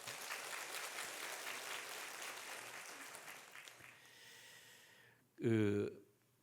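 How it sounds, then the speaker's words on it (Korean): A church congregation applauds a soloist in a warm burst of clapping that gradually fades away, followed by a sudden loud breath or snort close to the microphone. "박수해 주시겠습니다"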